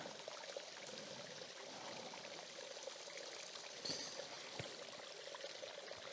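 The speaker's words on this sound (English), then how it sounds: "we have this black rock with the water flowing within it" A thin trickle of water running over black rock outdoors, a soft, steady, faint flowing hiss with a few small splashes, heard alone.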